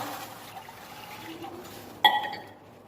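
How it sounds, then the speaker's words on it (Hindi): A brief splash of water poured from a glass into a pot of chickpeas near the end, following a stretch of quiet room noise. "मैं ये 1 गिलास पानी डालूंगा,"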